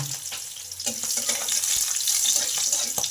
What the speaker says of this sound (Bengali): লঙ্কা আর কালো জিরেটা কয়েক সেকেন্ড ভেজে নিলাম